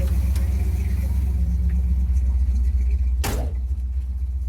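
A truck engine idles with a newly installed Quadrajet carburetor at operating temperature, a steady, loud low rumble held throughout, with one brief broadband burst near the end.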